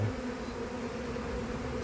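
A swarm of honeybees streams into a hive, giving a steady, dense buzzing drone that stays close and constant throughout with no voices.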